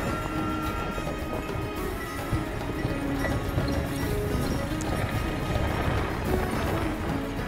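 A large herd of livestock passes along a road in Tharparkar, a dense continuous shuffle of many hooves and bodies with scattered knocks, steady and fairly close, faint voices beneath.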